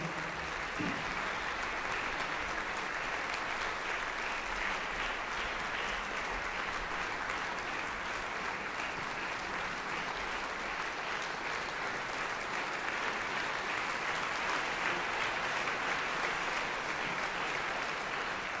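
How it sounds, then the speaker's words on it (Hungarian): Steady, sustained applause from a large concert audience greeting a percussion ensemble of a philharmonic orchestra at a choir workshop concert, dense and even throughout with no voices over it. "nagy tapsal köszöntsék őket"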